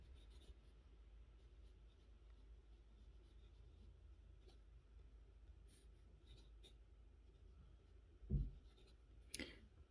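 Pineider Avatar De Luxe fountain pen with a quill-style nib writing on paper at normal size without pressure, a faint steady scratching under low background hum, with a couple of brief louder bumps near the end.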